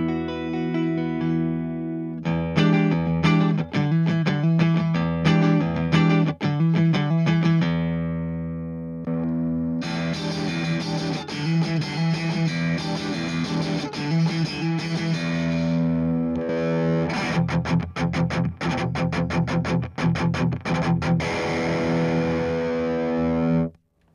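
Electric guitar struck with a giant triangular Dunlop pick, heavily distorted and effects-laden, played in bursts of rapid picked notes and sustained chords with brief gaps between phrases, loud and close.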